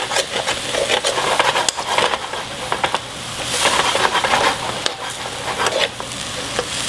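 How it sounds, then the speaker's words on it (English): Half a cup of water hits a hot stir-fry pan to loosen stuck ginger, with broccoli and noodles cooking. A loud, steady hissing sizzle runs throughout, dotted with scraping stir clatter, and no voices. "I'm going to hit it with a half a cup of water. Okay, with water. Use that to deglaze the pan so it gets stuff off the bottom"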